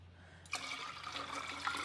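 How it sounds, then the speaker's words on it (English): Tap water pouring into a jug for homemade lemonade, starting abruptly after a brief hum and running as a steady close splashing stream that rises slightly as it fills. "just going to put some water in halfway for now and just try it and see."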